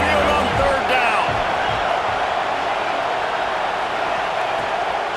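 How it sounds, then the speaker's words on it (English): A Crimson Tide home crowd roars on third down at Saban Field in College Football 26, a loud, unbroken wall of stadium noise that holds steady throughout. "The Tide crowd rolling noise down onto Saban Field on third down"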